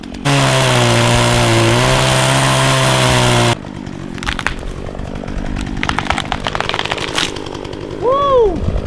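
At a paintball field, a chainsaw roars loudly for several seconds as it cuts into a tree and then cuts out. Creaking and crackling of wood follow as the tree comes down, and voices shout near the end.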